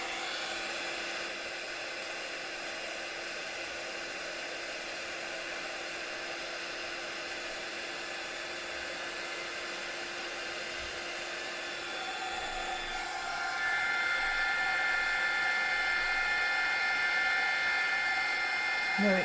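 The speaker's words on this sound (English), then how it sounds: "I'll put the heat gun on with you here" A heat gun blows hot air over mixed-media journal cards, a steady airy whoosh with a whining tone that grows louder and fuller about two-thirds of the way through.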